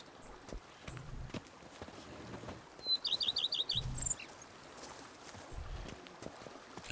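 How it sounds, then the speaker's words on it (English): In The Witcher 3 Blood and Wine, a quick run of bright, sharp bird chirps rings out at mid-distance over a soft outdoor ambience, along with faint hoof-like clops at a steady pace. "the birds chirping"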